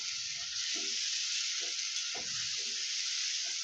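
Potatoes frying with turmeric give off a bright, constant sizzle in the pan, with irregular scraping and knocking from stirring cutting through the hiss at close range.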